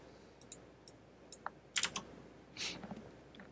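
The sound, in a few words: typing a long password on a computer keyboard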